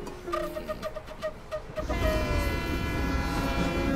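A train in motion, heard in a Hindi-dubbed South Indian action film: a few clipped horn toots at first, then a steady loud rumble and clatter of rolling cars with a sustained tonal whine, no talking.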